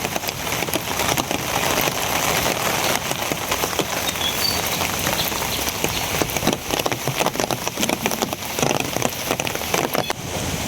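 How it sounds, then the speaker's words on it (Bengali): Steady, dense rain patters on nearby surfaces in the early morning, a continuous close hiss with scattered sharper drops and no talking. "ওখানে আবার কারাকারির ভিতরে আবার বৃষ্টি শুরু হয়ে গেছে"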